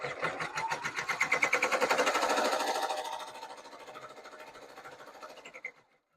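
Embroidery machine stitching yarn in a rapid, rhythmic pulsing burst that is loudest early, eases to a softer steady chatter, then stops abruptly.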